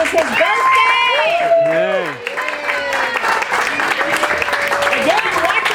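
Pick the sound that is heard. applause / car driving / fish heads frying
applause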